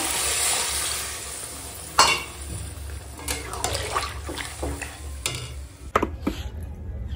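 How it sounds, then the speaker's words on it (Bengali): Water poured into a pan of fried, spiced mutton, a hissing sizzle with splashy bursts and stirring clatter, close and fairly loud, tapering toward quieter bubbling at the end. "তো এখন দিয়ে দেব জল"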